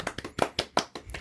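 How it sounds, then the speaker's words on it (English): A small crowd at a fishing talk claps in a short, uneven burst of hand claps, sharp taps spread across about a second, fairly close and moderately loud. "Round of applause for them."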